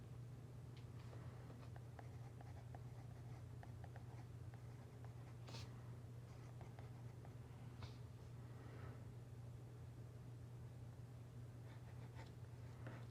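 A Scribo La Dotta fountain pen with an extra fine nib writes on paper, giving faint, soft scratchy strokes over a steady low hum in a quiet room.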